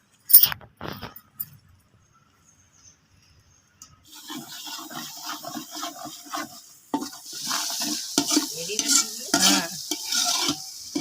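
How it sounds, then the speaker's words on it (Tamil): Whole spices hit hot oil for chicken biryani, cooked outdoors in a garden. A few clinks come first, then near silence, then a close crackling sizzle starts and grows busier and louder with bursts of popping. "இப்போ நம்ம எண்ணெய்களை போட போகிறேன் எண்ணெய் காஞ்சிச்சுன்னு நினைக்கிறேன்"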